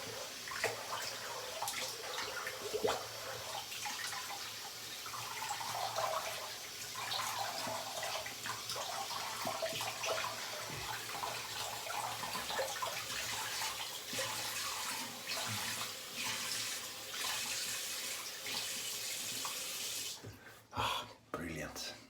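Tap water running steadily into a sink while someone rinses off after shaving, a continuous splashing hiss with small shifts in flow, stopping near the end.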